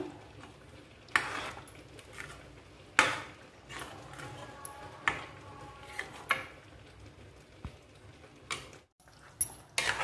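A spoon scraping and knocking against a pot while homemade garam masala is stirred into simmering curry gravy: sharp metallic clinks and taps at irregular intervals over quiet background, fairly faint overall.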